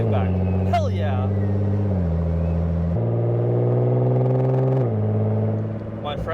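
A Nissan GT-R R35 with an HKS Legamax exhaust idles and blips, its deep, droning rumble stepping up and down in pitch with each throttle change. It stays close and steady before easing off at the end.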